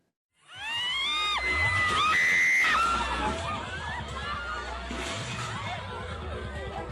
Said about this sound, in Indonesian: Jeritan histeris dan teriakan panik terdengar saat wahana ombak banyu di sebuah arena pasar malam tiba-tiba roboh.